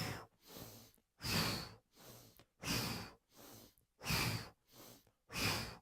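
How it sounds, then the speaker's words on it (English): Repeated breathy exhalations out through the mouth in an O shape during a yoga twist, five or six strong airy puffs in a steady rhythm with quieter breaths between, close and alone without talk. "as you twist to the left, you exhale out the mouth in an O shape"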